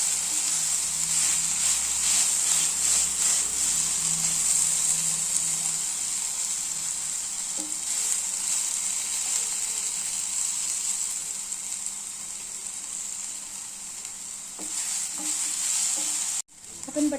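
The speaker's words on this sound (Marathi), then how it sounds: "याप्रमाणे आपल्याला छान असं मिक्स करून घ्यायचं आणि बटाटा शिजवून घ्यायचा आहे" Grated potato sizzles and hisses in a hot pan while being stirred and mixed, a steady close frying sound that stops abruptly near the end.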